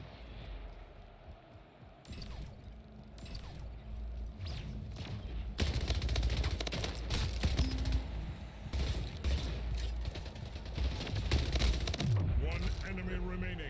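SMG gunfire in a Splitgate 3v3 ranked match, bursts of rapid shots rattling under game effects, with a voice talking over the action.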